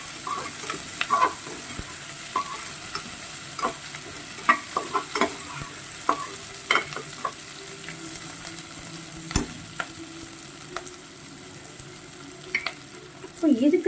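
Onions for aloo biryani frying in a pan, giving a steady low sizzle and a string of scattered clinks and scrapes as a spoon stirs them, with a louder rattle right at the end.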